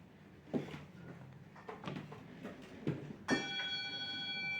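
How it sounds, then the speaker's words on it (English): A small hand bell rung on stage at a spoken-word performance in a pub, starting with a few soft knocks and handling clicks, then one clear bright strike whose ringing tone hangs and sustains to the end, close and fairly quiet. "I brought a little bell here"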